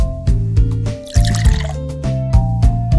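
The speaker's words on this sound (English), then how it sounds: "Click to give the plant a little bit of water." Cartoon water splashes onto a potted plant in a Sesame Street game: a short, bubbly gurgling pour in the middle, set against a bouncy, repeating musical backing.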